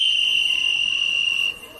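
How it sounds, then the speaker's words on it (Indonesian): A referee's whistle sounds to start the second half of a basketball game: one sustained, piercing blast lasting about a second and a half, then cutting off abruptly into quiet. "Peluit babak kedua bergema."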